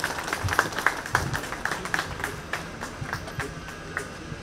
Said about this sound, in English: May we have a huge round of applause for him.